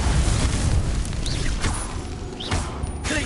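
Confringo fire explosion spell cast in the Hogwarts Legacy video game: a dense, roaring burst of blasts that stays loud and fills the whole span, with no quiet gaps.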